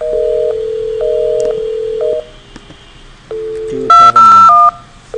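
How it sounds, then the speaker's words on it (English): An IP phone in a Cisco voice lab gives several evenly spaced steady ringback tones, each about a second long. A quick, loud burst of touch-tone dialing beeps follows near the end. "Phone is ringing."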